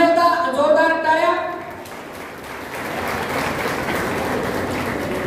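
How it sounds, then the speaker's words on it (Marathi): Audience applause at an award ceremony, a steady loud crowd clapping that swells in after a short stretch of music or tones at the start and continues evenly. "पुन्हा एकदा जोरदार टाळ्या"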